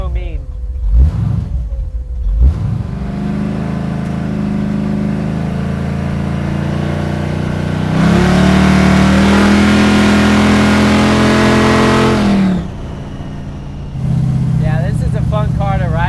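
A 1968 AMX with a blown small-block V8 rumbles up close from inside the car, a steady mean idle that surges into a louder rev for several seconds, then drops back.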